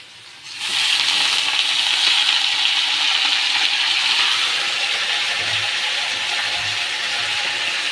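Leafy greens drop into a hot pan of frying potato and onion, setting off a sudden loud sizzle that holds steady with faint stirring clatter underneath.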